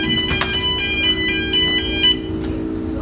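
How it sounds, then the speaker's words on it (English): A fridge alarm sounds during a test, a steady repeating electronic tone with short beeping pulses over a low machinery hum. "test the alarm in the fridge"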